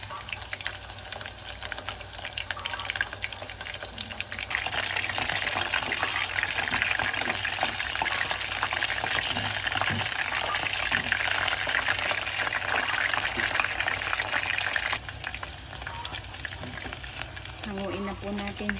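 Four pieces of teriyaki chicken frying in hot oil, making a dense, continuous close sizzle that carries steadily for the whole stretch and eases slightly toward the end.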